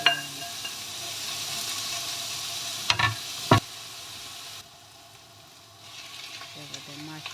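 Onion and ginger frying in oil, a steady close sizzle broken by two sharp stirring scrapes partway through, then a quieter stretch as the hiss settles.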